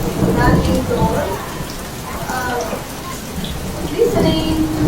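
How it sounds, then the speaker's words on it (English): Steady rain falls outdoors as a dense, even patter of drops hitting surfaces, close and continuous. Soft voices murmur faintly underneath at a few points. "Listening to the relaxing sound of the rain."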